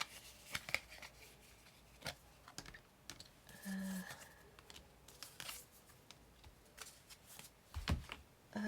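Tarot cards being pulled from a deck and handled, heard as soft close-up shuffles, snaps and papery taps scattered irregularly across the clip in a quiet room with no talk.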